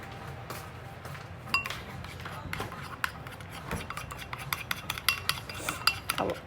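Seasoned chicken gizzards mixed with salt and pepper in a bowl, soft wet stirring and scraping with repeated utensil clinks against the dish, fairly quiet and close, with brief voice sounds in places.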